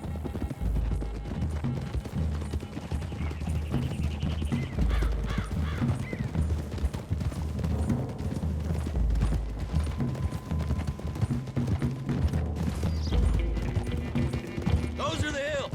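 Several horses galloping in the Red Dead Redemption video game, a continuous rumble of hoofbeats with an occasional whinny, heard under speaking voices and background music.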